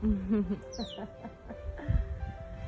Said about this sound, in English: Well, hello, birdie bird.